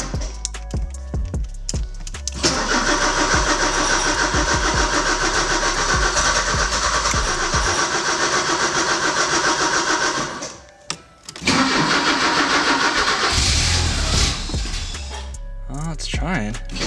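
A Porsche 944 engine cranks over and over as it struggles to start, the starter grinding in long loud bursts with a brief pause between attempts, close up, with no clear catch.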